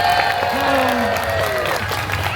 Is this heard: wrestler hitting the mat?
no